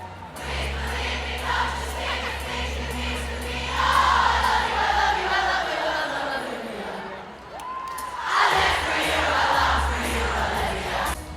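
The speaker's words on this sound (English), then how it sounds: "a quick video of the crowd" Large arena crowd at a concert, a steady roar of many voices with swelling cheers and shouts that rise twice, loud and continuous throughout.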